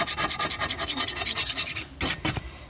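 Old finish layers being scraped off a wooden frame, a close, loud rhythmic rasp of quick even strokes, about fifteen in a row, then a pause and a few slower scrapes, with no talking.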